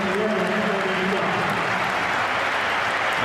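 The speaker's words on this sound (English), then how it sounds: "Applause from he who must be obeyed, reciprocated by the player being replaced, Damien Duff" A Chelsea v Tottenham stadium crowd at Stamford Bridge applauds a substitution, a broad, steady roar of clapping under a commentator's voice.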